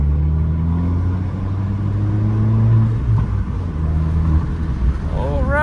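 A Fiat 500 Abarth's small engine hums and rises in pitch as it accelerates through the gears, a steady close rumble throughout, with a voice briefly at the end.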